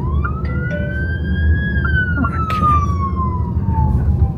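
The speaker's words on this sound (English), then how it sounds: "We let the ambulance go first, eh?" An ambulance siren sweeps slowly up and then down in pitch as it passes near a ZEEKR 7X electric car in Malaysian traffic, loud over a steady road rumble.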